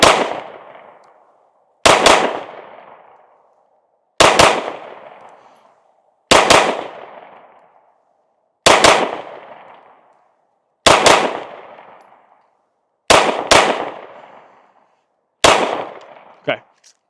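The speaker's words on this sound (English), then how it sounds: "We'll go a little bit slower and double taps at first" Glock 19 Gen 5 pistol fired in double taps at a range: sharp, loud, close pairs of shots with long ringing decays, about eight pairs spaced a couple of seconds apart, no talking.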